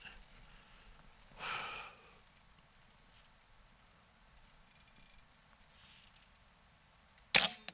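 A Benjamin Gunnar .25 airgun fires a single sharp, loud crack near the end at an outdoor 50-yard range, after a long quiet stretch broken only by faint rustling and a soft breathy noise.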